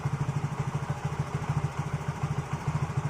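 A motorcycle engine idles just after a major service with cleaning and new valve seals, chugging in a steady, even low pulse with light mechanical clatter, no voices.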